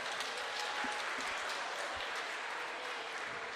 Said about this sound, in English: Teammates and competitors clapping for each other is always a nice way to finish as well.